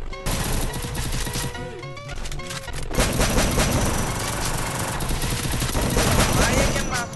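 Rapid gunfire from a shooter video game sounds continuously and loudly, with dense bursts of automatic shots and layered weapon effects over a busy game soundtrack.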